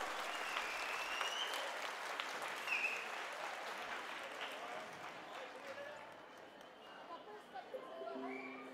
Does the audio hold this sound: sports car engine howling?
no